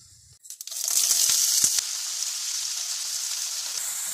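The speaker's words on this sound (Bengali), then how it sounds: "সর্ষেটা বেশ একটু ভাজা ভাজা হয়ে গেলে চিচিঙ্গাটা ছেড়ে দেবো" Snake gourd drops into hot oil with mustard seeds in a pan, setting off a sudden loud hiss that settles into a steady, close sizzle with no talking.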